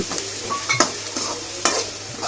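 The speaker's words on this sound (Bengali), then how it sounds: "তো ভালো করে নেড়ে চেড়ে কষিয়ে নেব এগুলো" Ginger, onion and garlic paste with green chilli sizzling in a pan for duck curry, stirred with a utensil in several quick scraping strokes over continuous frying, close up.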